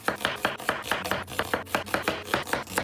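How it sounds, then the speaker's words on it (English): A knife chops an onion into thin slivers on a cutting board, about a dozen quick, evenly spaced taps in a steady rhythm, close and clear with no talking. "Next, we're gonna cut up an onion and a pepper."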